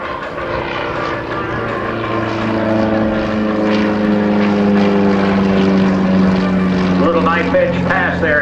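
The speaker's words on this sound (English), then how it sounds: "Enormous power for this Czechoslovakian airplane, the Yak-55." A Czechoslovakian Yak-55 aerobatic propeller plane roars overhead at an air force base airshow, its engine droning steadily with shifting pitch as it maneuvers, loud and continuous beneath an announcer's commentary.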